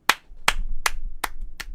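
Five sharp hand claps at an even, unhurried pace, each a crisp close burst with a low hum between, no voices.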